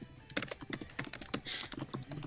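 Rapid typing on a computer keyboard during a tabletop role-playing game session, a quick run of close, crisp key clicks with an irregular rhythm and no talk over it.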